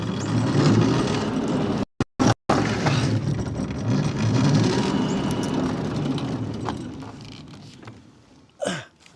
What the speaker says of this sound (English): A couple burnouts.